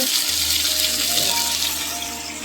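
Steady running water from a kitchen tap while a large pile of dishes is washed, a continuous broad hiss with a low hum underneath, close and fairly loud with no one speaking.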